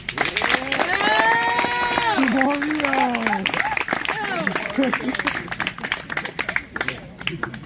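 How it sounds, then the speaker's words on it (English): At a boys volleyball end-of-season party, a crowd applauds the coaches with loud, steady clapping, while voices call out and cheer over it before the clapping thins toward the end. "Okay, another round of applause to them"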